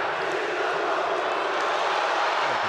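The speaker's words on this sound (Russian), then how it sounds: "А я бы отметил перекличку болельщиков." Football fans of Dynamo chant back and forth in the stands at a summer training-camp semifinal, making a dense, steady crowd roar that fills the stadium without pause.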